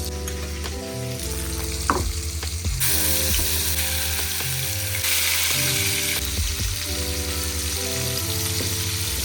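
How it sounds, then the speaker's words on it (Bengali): Bitter gourd pieces fry in hot oil, giving a steady loud sizzle with occasional stirring clicks and scrapes, over a faint tonal background hum. "আর এখানে এখন করলাগুলোকেও ভেজে নেবো"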